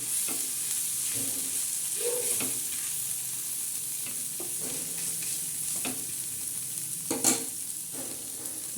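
Green chillies fry in oil, producing a steady close sizzle with intermittent stirring scrapes and a sharper clink near the end, with no talking.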